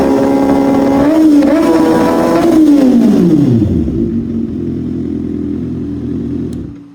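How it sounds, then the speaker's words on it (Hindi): A motorcycle is held at full throttle, loud and close, its engine note rising and holding before sliding down in pitch as the roar eases to a steady, quieter drone. "फुल थ्रॉटल दिया हुआ है, स्टिल मेरी बाइक 90 से ऊपर नहीं जा रही।"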